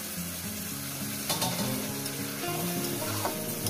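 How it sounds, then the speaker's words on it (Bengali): Chicken masala with added tomato and masala-rinse water sizzles steadily in a pan, with occasional scrapes and clinks of a spoon stirring through it; no voices. "এটাকে সুন্দর করে মশলাটাকে ভালো করে কষিয়ে নেব।"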